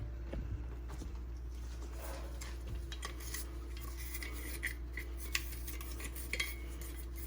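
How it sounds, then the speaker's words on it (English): A small motor's commutator is rubbed clean during degreasing, giving soft, quiet scraping and light metallic clinks and taps, sporadic and close against a steady low hum. "Rubbing the commutator, rubbing it that way."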